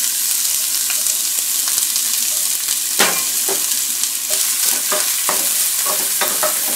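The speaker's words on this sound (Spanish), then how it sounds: "Y voy a poner a freír la cebolla." Onion frying in a little oil in a cooking pot, a steady crackling sizzle with scattered sharper pops and stirring clicks throughout, no voices.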